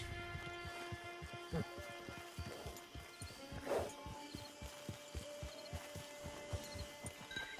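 A horse's hooves clip-clop at a steady walking rhythm in the Red Dead Online video game, quiet and regular over a low background hum, with a few louder thumps.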